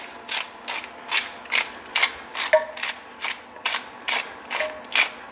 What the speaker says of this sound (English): Some cracked black pepper goes over that.